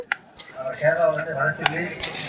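Whole spices go into hot groundnut oil in a pan and sizzle. A spoon stirs and scrapes against the metal with sharp clinks, close up and fairly loud, and no one speaks.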